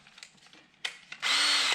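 A power drill fitted with a 12mm bit, working on a VW T4 van, starts with a couple of short bursts and then runs steadily at high speed, close and loud.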